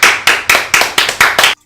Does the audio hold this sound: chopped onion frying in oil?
no